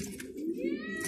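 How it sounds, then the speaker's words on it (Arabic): Pigeons kept for sale in Irbid, among them blue homers, give a single brief low coo, close and clear over a faint background hiss. "شوي حمام للبيع"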